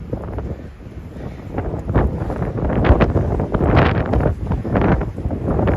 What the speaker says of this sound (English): as you can hear, it's crazy windy.